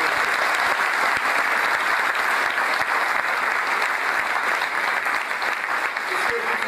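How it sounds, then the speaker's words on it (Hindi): Audience applause at a free Sai Baba hospital event in Chhattisgarh, a dense, sustained clapping from a large crowd that fills the whole stretch at steady loudness. "एक बार ताली बजा के उनकी स्वागत आप करें।"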